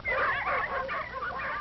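Sled dogs working in a cold northern setting, hauling mail and supplies, give off a continuous run of yips, whimpers and barks, fairly loud and close, with a thin, band-limited quality typical of old recorded film sound.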